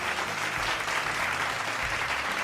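Steady applause from a studio audience greeting a contestant on a Ramadan television programme for blind participants, dense clapping at an even level through the whole stretch with faint music beneath.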